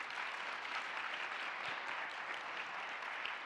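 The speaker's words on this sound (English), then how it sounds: "Let's give them a round of applause." Steady audience applause at a leadership summit after a panel discussion, dense and even throughout with no talking.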